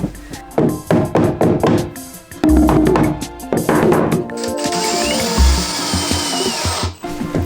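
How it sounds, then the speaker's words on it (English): A run of sharp, close metallic knocks, like hammer blows while building a compost toilet, followed by the whir of a power tool running steadily, no talking. "We need to hammer it a little bit."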